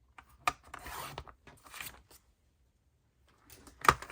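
Paper is cut on a small paper trimmer, with soft rasping slides broken by brief clicks and pauses, close and quiet, ending in a sharper snap.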